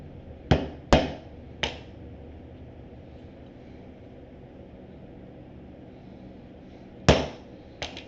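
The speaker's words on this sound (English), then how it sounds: "So I'll fold that over, poke me a hole for my rivet." A leather strap for a messenger bag struck with a hole punch, giving three sharp, close taps in quick succession, a long quiet pause, then two more hits.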